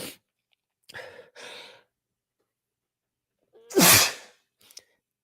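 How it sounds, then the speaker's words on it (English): A single loud sneeze, preceded by a few soft breathy sounds and followed by a brief sniff, otherwise quiet. "Sneezing, what the hell?"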